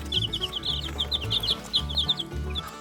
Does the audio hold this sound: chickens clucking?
yes